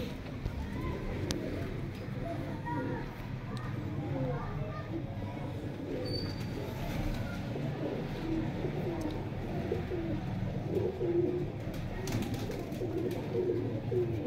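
Pravasi breeder pigeons coo softly throughout, with low murmuring calls, while people talk and children's voices sound in the background.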